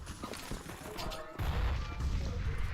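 Grenades go off in a Counter-Strike: Global Offensive match during a LAN qualifier semi-final, a muffled burst of impacts followed by a heavy, low booming blast, fairly quiet overall.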